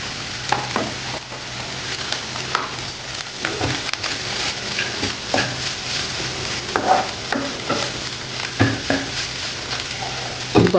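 Aloo masala potato filling being stirred in a hot frying pan, a steady sizzle with repeated scraping and clacking strokes of the spoon throughout, close and fairly loud.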